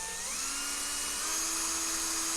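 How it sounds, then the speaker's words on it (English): A cordless drill spins a small Bernina trackball part against an emery board, a steady high whine rising slightly in pitch, with faint grinding and no talking. "We're going to put it into a cordless drill and rotate it."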